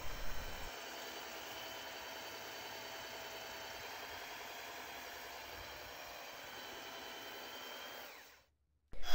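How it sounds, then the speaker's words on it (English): Belt sander running with 80 grit sandpaper on pallet wood, a loud steady machine whine and rasp held for about eight seconds before cutting off abruptly, with no talk. "We used a belt sander with 80 grit sandpaper"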